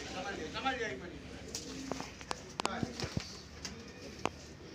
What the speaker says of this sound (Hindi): कबूतर अभी बैठ रहा है 2 बजे के बाद मोहित भाई का।